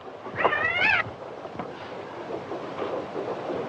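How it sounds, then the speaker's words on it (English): A single cat meow, rising and wavering over roughly half a second, close and fairly clear against a steady outdoor wash of wind and faint ambient noise, with no talk. "That cat come all the way from Omaha."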